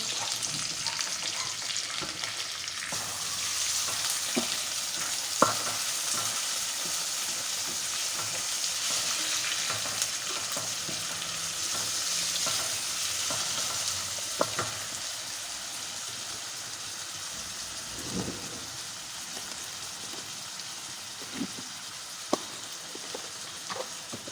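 Chopped tomatoes frying in a hot pan for masala bhindi, with a continuous crackling sizzle and occasional stirring knocks and scrapes throughout.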